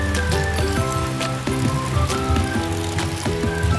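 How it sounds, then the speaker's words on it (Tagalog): Steady rain falls heavily and continuously during a prolonged downpour, with a dense wash of close patter and a repeating rhythmic mechanical clatter over it. "Maraming ulan dito guys,"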